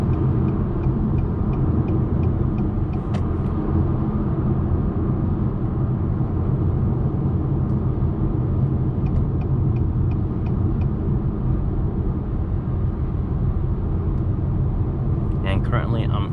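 A 2021 Acura TLX with a 10-speed automatic, heard from inside the cabin in comfort mode while driving: a steady, continuous low engine and road rumble with no breaks, joined by faint brief ticks near the end.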